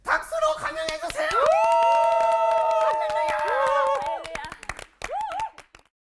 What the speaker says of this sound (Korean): 우리 서행한 목사님, 이 믿음 사모님을 박수로 감명해 주세요